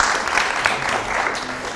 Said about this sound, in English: You shouldn't applaud just yet.